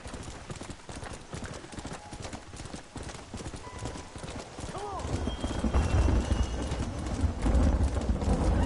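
Horse hooves in Red Dead Redemption gallop in a steady rapid clip-clop rhythm, then the hoofbeats fade under louder rumbling game ambience, with someone talking over it.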